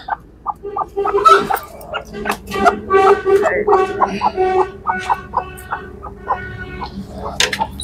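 A desi hen clucks repeatedly and fairly close while being settled onto a clutch of nine eggs, her clucks and short calls coming in uneven bursts over faint background noise.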